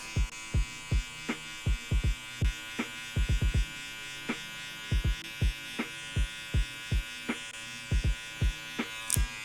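Hair clippers fitted with a 1.5 guard cutting a darker line while detailing a textured crop mullet, a steady electric hum broken by repeated sharp, rhythmic cutting strokes, close and clear with no talking.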